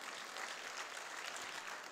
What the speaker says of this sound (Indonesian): Satu tepukan sekali lagi untuk anda.